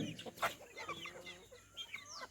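Country chickens raised on a farm give a few short, close clucks and soft murmuring calls, quiet and irregular, with no talking over them.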